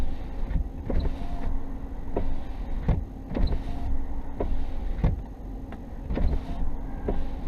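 Driver's side power window of a 2016 Dodge Challenger running up and down, its motor hum broken by repeated short squeaks and clicks at an uneven rhythm, close and fairly loud with no talk.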